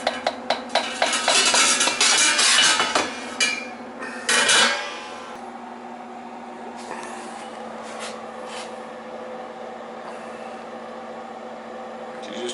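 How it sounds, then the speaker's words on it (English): A spoon scrapes and clanks against a pot of beef stew, a run of quick metallic knocks and rattles up front, then quieter stirring with a low steady hum beneath; no voices. "I've been stirring this thing right along, so she's kind of chooching away."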